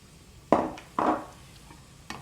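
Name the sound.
onion sizzling in hot pan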